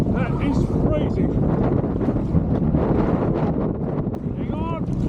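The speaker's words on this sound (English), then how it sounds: "the wind's come up now" Strong wind at a coastal inlet roars steadily across the microphone, buffeting it with continuous low rumble while a person's voice comes through faintly in places.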